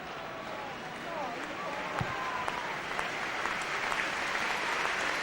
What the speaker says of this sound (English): And Couñago is getting a huge hand from this crowd as he comes off to be replaced by Richard Naylor.